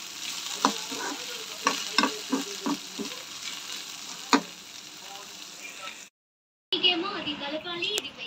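Okra (bhindi) fries in a pan with a steady sizzle under quick, rhythmic spatula clacks and scrapes, then a brief silence, and a voice comes in over the sizzling at the end.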